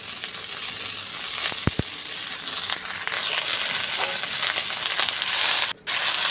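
Red amaranth greens frying in a pan with onion and green chilies, a steady close sizzle and hiss broken by a couple of sharp metallic knocks and a brief dip near the end.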